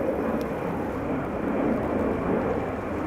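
An Air France Airbus A319 departs Amsterdam Schiphol for Paris Charles de Gaulle, its engines giving a loud, steady, broad roar that holds evenly close by.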